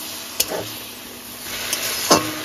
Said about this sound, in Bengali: খুব ভালো করে এবার মিশিয়ে নেব